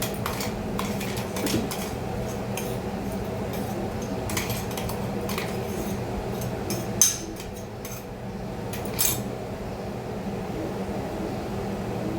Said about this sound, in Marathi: हे मी एका वाटीमध्ये काढून घेते म्हणजे ज्यावेळेला आपण फोडणीला घालू त्यावेळेला हे टाकायला बरं पडेल